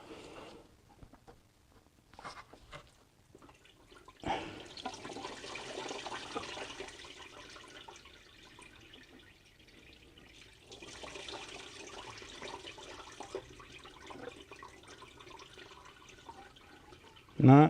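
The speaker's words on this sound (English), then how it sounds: "once we kind of break the seal, probably more coolant's going to leak out" Coolant from a BMW X3 E83 trickles and splashes into a drain pan, a steady faint liquid pour with a few drips, under occasional talk.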